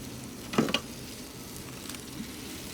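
Sausage sizzles on an outdoor grill, a low steady crackle with a couple of brief sharper pops near the start, fairly close and quiet, with no talking.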